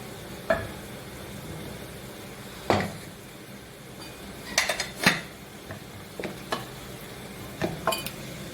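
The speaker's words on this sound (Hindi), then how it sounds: "अब हम इसको सर्विंग के लिए डिश आउट करेंगे।" Chicken korma in degi style being dished out for serving, with a spoon clinking and scraping against a pot and a dish in several sharp, spaced knocks over a low background hiss; no one speaks.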